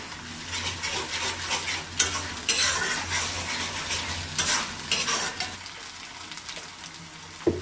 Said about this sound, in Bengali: পেঁয়াজ ভেজে নেব। আদা আর রসুন একসঙ্গে পেস্ট করা অ্যাড করে নেব।